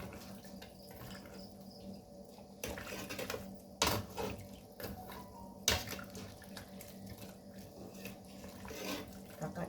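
Water pours into a pot of pickled mustard greens soup simmered with pork bones and pork intestines, a steady running splash with a couple of sharper bursts, close and moderately loud in a home kitchen.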